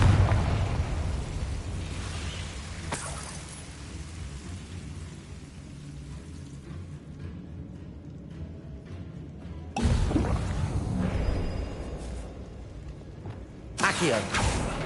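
Confringo spell blasts in the video game Hogwarts Legacy: two or three booming, rumbling explosions with long crackling decay, fairly loud and close, under a background game soundscape.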